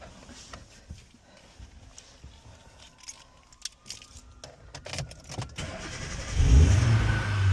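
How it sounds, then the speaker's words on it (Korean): A car engine is cranked and fires up after a jump start from a 4S LiPo drone battery; light clicks and rattles lead to a loud, close, low roar as the engine catches near the end. "빠르게 연결하고 시동을 걸어 보겠습니다"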